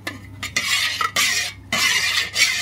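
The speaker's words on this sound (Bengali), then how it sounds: "ইলিশ মাছের সিজলিং হচ্ছে" Hilsa fish frying in mustard oil sizzles loudly and close, in bursts broken by brief gaps and light utensil scrapes, with no voices.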